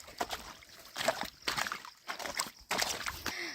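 Feet slosh through shallow water in a village irrigation canal, a run of close, splashy steps coming in uneven bursts with brief pauses between them.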